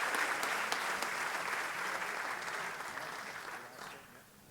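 Sustained applause from a school audience at a varsity sports awards ceremony, steady at first and then gradually thinning out toward the end.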